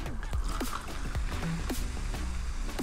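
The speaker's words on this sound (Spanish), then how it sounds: "Y terminamos con un poco de agua mineral." Mineral water poured into a vodka and curaçao cocktail over ice, heard close as a run of gurgling, bubbly splashes and drips lasting a few seconds.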